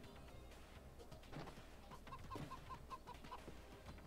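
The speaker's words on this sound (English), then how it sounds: "There's a chicken." A chicken in the Moving Out video game clucks in a short series of evenly spaced, fairly quiet clucks over soft background game ambience.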